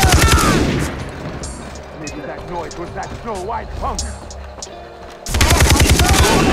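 Rapid gunfire bursts from the video game Far Cry 3, loud at the start and end of the clip, with sparse distant shots in between, under excited shouting from a player.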